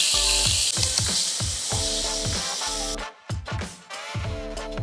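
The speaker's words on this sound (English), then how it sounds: "let's begin the stir fry" Marinated beef stir-frying in a skillet gives a steady bright sizzle under rhythmic backing music, which briefly thins out midway before the hiss returns.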